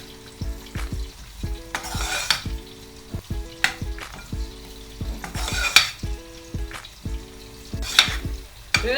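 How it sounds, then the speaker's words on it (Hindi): Flour (maida) frying in butter in a pan while a spoon keeps stirring it: a soft, steady sizzle broken by repeated scraping and clinking strokes of the spoon against the pan, close up and without talk. "बस लाइट सा इसका कलर चेंज हो तब तक हमें इसको भूनना है बटर में। चम्मच जो है आप बराबर चलाते हैं।"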